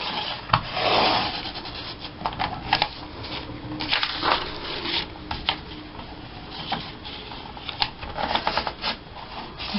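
Paper is trimmed for a large gluebook embellishment, giving close, continuous rasping and rustling cuts with uneven bursts and no voices.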